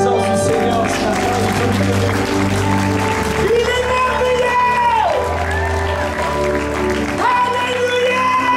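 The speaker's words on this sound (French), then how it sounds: "Applaudissez la présence du Seigneur ce matin." A church congregation claps and cheers during a French-language worship service, steady mixed applause and shouts under prominent music and a voice speaking over the noise.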